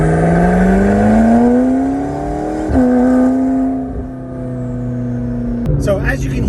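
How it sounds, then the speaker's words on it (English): A McLaren's turbocharged engine accelerates hard through a new exhaust, its rising turbo whine and whoosh building steadily, then a sharp burst of blow-off valve hissing as the throttle lifts, with faint voices mixed in. "how much you can hear the turbos and the blow-off valves so much more"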